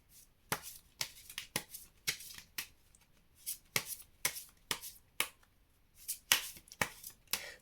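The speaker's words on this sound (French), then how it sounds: "Je vais terminer par vous prendre une petite carte de l'oracle de Merlin." Oracle cards from a Merlin oracle deck being shuffled by hand, a quick run of crisp riffling flicks and slaps in uneven bursts, close and fairly quiet, with no talking.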